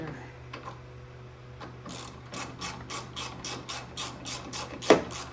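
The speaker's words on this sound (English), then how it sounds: "And I'm going to continue tightening it down" A ratchet tightens bumper bolts on a 2019+ Chevrolet Camaro SS, a run of about ten quick, evenly spaced clicks growing slightly louder, close by, ending with a sharper metallic knock.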